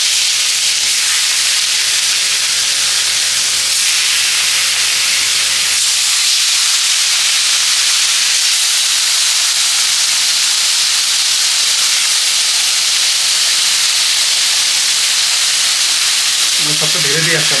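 Raw rohu fish coated in spice marinade sizzles in hot oil over a lowered gas flame, a steady close hiss running throughout with a brief louder burst near the end.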